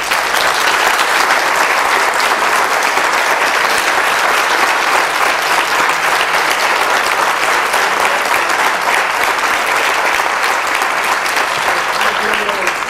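A symposium audience gives sustained, steady applause, a thick even roar of many hands clapping that holds at the same level from start to finish.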